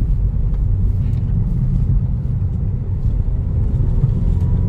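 A high-mileage VW Jetta engine pulls steadily on a back road, a loud, continuous low rumble heard from inside the car.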